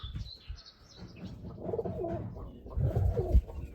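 Soft, low pigeon coos repeat close by, with a few faint chirps and a brief flutter of wings among them.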